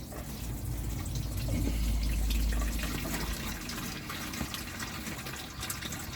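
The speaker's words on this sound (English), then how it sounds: "Oil's coming out now." Old engine oil gushing out of a Land Rover 2.25 diesel engine during a rebuild, a continuous, close liquid pour and splatter that swells and then steadies, with no talk.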